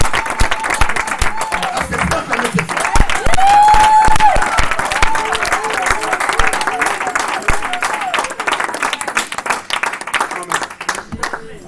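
A church congregation claps and cheers loudly and continuously, with a sustained vocal call rising over the crowd partway through and voices mixed throughout.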